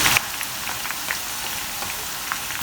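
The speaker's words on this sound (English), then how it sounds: "For the onion, the oil needs to be hot, and I'm going to be doing the onion in batches." Onion strands frying in batches in hot oil for chicken khow suey, a steady close crackling sizzle with scattered pops running throughout, no voices.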